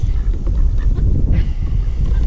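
Ducks honk and squawk loudly and close by in a quick, overlapping series of raspy calls, with no voices.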